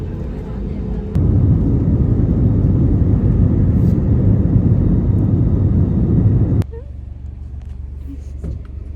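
An Airbus A320 airliner landing, heard as a steady loud rumble from inside the cabin that swells abruptly, holds for several seconds, then drops back to a lower droning hum.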